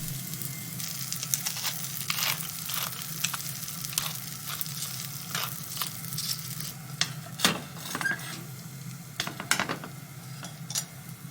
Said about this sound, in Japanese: コンソメパウダーを加えたらさっと炒めて混ぜて